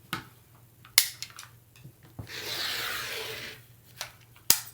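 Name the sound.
rotary cutter trimming fabric selvage along a ruler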